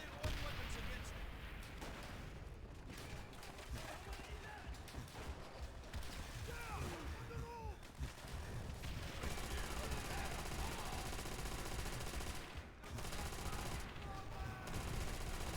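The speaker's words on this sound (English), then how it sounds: "Dimitri, get on that MG." A mounted machine gun fires in a war video game: dense rapid bursts of gunfire mixed with explosions and battle noise, with voices speaking under the chaotic din.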